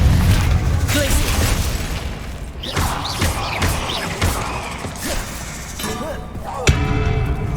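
An ice spell cast in Hogwarts Legacy cracks and shatters with glassy, crystalline bursts over a dense game soundscape, several sharp breaking hits spread through the clip.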